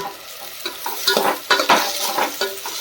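Close, loud stirring of spices into cluster beans in a sizzling pan: a spoon scrapes and knocks in irregular strokes over a steady hiss of frying.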